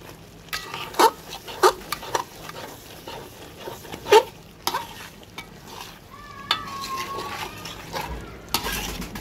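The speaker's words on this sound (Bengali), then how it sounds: "এই ঝোলটা দিয়ে আজকে আমি মাংসগুলো ভুনা ভুনা করব" Broiler chicken meat with peanuts is stir-fried dry in its own gravy, a soft sizzle beneath repeated scraping and clinking of a spatula against the pan, close and moderately loud.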